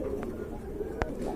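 Pigeons coo at a large pigeon farm, a steady low murmur of many birds close by with one brief sharper call standing out near the end, no talk.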